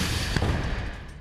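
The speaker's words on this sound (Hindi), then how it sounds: "जिससे घर में जोरदार धमाका होने लगता है।" Explosives detonated inside a house give a loud, dense, sustained roar of blast noise, heavy and rumbling throughout the short burst.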